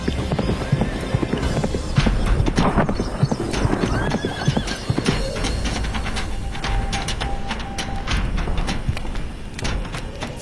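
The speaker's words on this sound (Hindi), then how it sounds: "बड़े महाराज तुरंत घोड़े पे सवार उन ऋषि मुनि के पास पहुंच जाते हैं" Hooves clip-clop in a quick, steady gait as a king rides off on horseback in an animated Hindi folk tale, with a horse neighing and whinnying over the loud, close hoofbeats.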